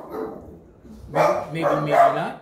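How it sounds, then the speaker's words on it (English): A pet dog barks twice in a kitchen during focaccia baking, loud, close sharp yelps in the second half, following a brief spoken phrase. "that's my dog, of course"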